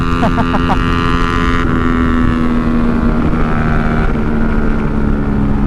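A BMW 350cc maxi-scooter held at full throttle gives a loud, steady engine drone with a constant pitch, thick with wind rush. No speech is heard.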